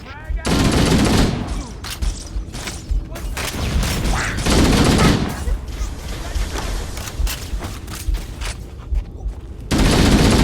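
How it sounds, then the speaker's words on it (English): Stationary Covenant-style turret guns firing in Halo, heavy repeated bursts of automatic fire that surge and break off several times, loud and close, with explosive booms mixed in. "Those stationary guns are gonna tear us to pieces!"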